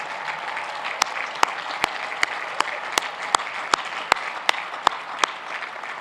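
An audience at a university graduation ceremony applauds in a steady, even wash of clapping, with a few sharp, louder claps standing out at regular intervals.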